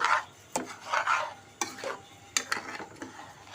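Rice being stirred and fried in a pot for chicken khichuri, a spoon scraping in several separate bursts over a soft sizzle, close and fairly quiet, with no talking.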